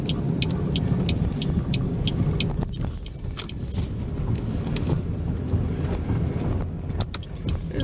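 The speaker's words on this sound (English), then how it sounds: "Here comes the school bus." A school bus drives past on a residential street, its engine rumbling and swelling then fading, heard from inside a moving car with wind buffeting the microphone.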